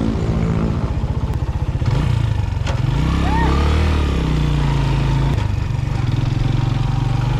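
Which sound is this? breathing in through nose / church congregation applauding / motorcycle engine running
motorcycle engine running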